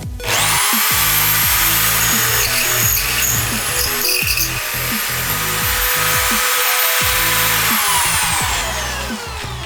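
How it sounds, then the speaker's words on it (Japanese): A HiKOKI electric drill mounted in a drill stand bores a hole, giving a loud steady high motor whine that spins up, holds through the cut with shifting grinding tones, then winds down. "はい、じゃあもう一発開けていきます。"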